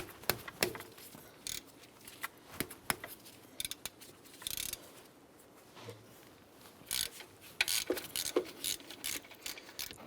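A ratchet works a 15mm alternator bolt loose on a 2011-2018 Ram, with bursts of close, sharp clicking and rasping strokes separated by short quiet pauses.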